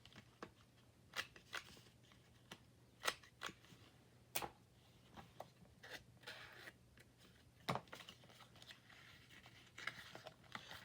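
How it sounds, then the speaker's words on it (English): Scissors trimming paper for a collage, with a series of sharp, close snips at irregular intervals over a quiet background. "Okay, let's trim that down just a little bit more."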